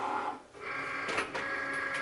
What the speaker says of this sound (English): I just have my Cricut back here